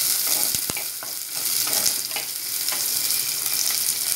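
Sliced onions fry with fenugreek seeds in hot oil in a pan for a fish curry, a dense, steady sizzle with occasional spoon knocks and scrapes, close and fairly loud.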